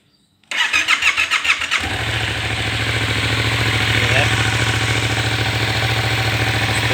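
A near-stock MT-07 motorcycle engine cranks with a rapid chugging starter, then catches and settles into a loud, steady idle rumble up close.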